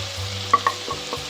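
Potatoes and eggplant fry in a pan as red chilli powder, turmeric and salt are stirred in, a soft sizzle punctuated by sharp, close utensil clinks against the pan.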